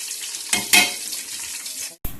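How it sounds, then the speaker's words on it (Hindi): Garam masala with cumin and black pepper sizzling in hot oil in a pan, a steady close frying hiss with two brief louder bursts and a short gap near the end, no voices. "गरम मसाले को हल्का सा भून लें"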